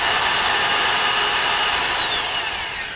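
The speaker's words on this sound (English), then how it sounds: "Now I'm going to drill a hole in front of the cat and measure the pressure there." A power drill bores a hole into a car's exhaust just ahead of the catalytic converter, giving a steady, close, high-pitched whine that holds for about two seconds and then tapers off as the bit finishes.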